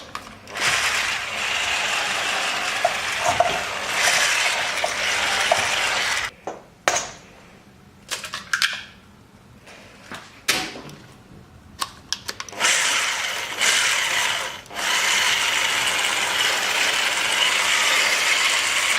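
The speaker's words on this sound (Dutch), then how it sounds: "5 eieren, die mix je er 1 voor 1 doorheen" A steady, loud electric mixer whirs continuously, beating eggs into waffle batter, broken by a few brief pauses and restarts, with rattling clatter from the beaters against the bowl.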